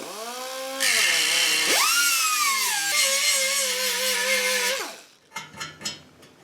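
A power grinder spins up and grinds down a Muggy Weld pot-metal repair bonded to steel, whining loudly at a shifting pitch for about four seconds, then cuts out into a few short bursts.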